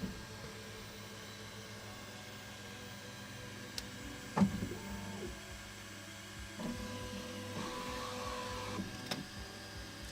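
A Bambu Lab X1 Carbon 3D printer wiping its nozzle before a print, a quiet hum with scattered mechanical clicks, short motor whirs and a few sharp taps, faint and close, with no talk.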